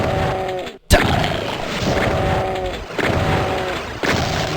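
Gunfire in Doom, repeated heavy blasts with booming impacts in short succession, loud and close amid game noise, with one sharp cut in the sound.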